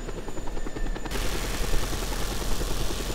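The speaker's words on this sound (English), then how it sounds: "start getting more and more helicopters coming at you" Helicopters attack in the video game Just Cause 2, a loud rapid rotor chop throbbing close and continuous, growing denser and more intense after the first second, with no voices.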